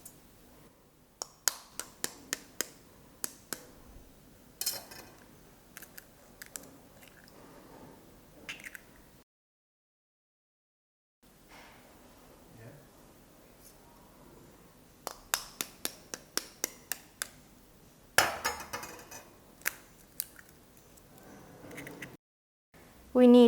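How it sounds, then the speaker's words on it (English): An egg being cracked and dropped into a bowl for a spicy fried egg, with sharp clicks and taps in quick clusters, moist squishy sounds, and a brief silent gap in between, all close up with no talking. "Now we crack the egg and put it in the bowl."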